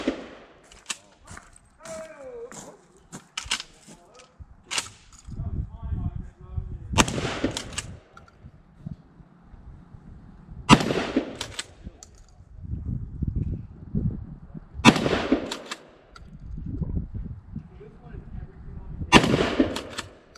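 Pistol shots at an outdoor fish and game club shooting range, sharp loud cracks spaced several seconds apart, with people talking between them.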